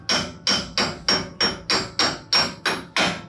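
Metal hammer blows drive a stub axle out of a Porsche 914 trailing arm. There are ten loud, sharp, ringing strikes at a steady rhythm about a third of a second apart, close by and with no talk.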